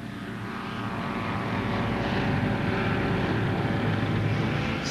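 A Michael Whittaker MW7 homebuilt light sporting airplane drones overhead, its propeller engine a steady, fairly loud hum that grows slightly stronger as it passes.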